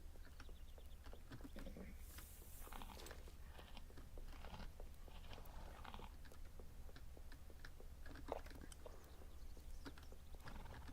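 Faint, steady clip-clop of a horse's hooves walking at an even pace in the video game Star Stable Online, over a low constant hum, soft and slightly crunchy.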